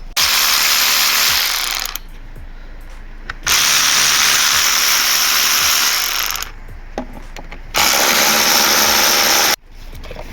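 Coil pack bolts on a Peugeot 107 engine being loosened with a 10mm socket and extension, several bursts of close, loud ratcheting clicks separated by short pauses.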